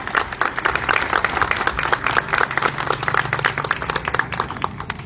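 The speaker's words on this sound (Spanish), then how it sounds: "si podemos compartir otro aplauso" Audience applause at an anniversary ceremony for a Catholic school, with a choir present: dense, crisp clapping from a crowd, steady throughout and fairly close.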